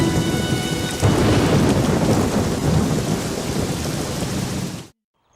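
Heavy rain pours with a rumble of thunder in a dubbed Hindi film scene, a dense steady hiss with a deep roll rising after a second, loud and then cut off abruptly.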